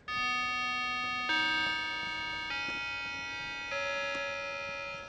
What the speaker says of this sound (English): I got the regulator clock. It's got the pine frame, and it does have the Westminster chimes.